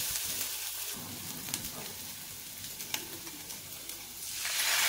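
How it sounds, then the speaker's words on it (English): Ginger aromatics sizzle steadily while being stir-fried in a pan, with faint scraping stir strokes over a continuous close frying hiss that swells louder near the end. "Keep stir it fry until it's fragrant and it's soft."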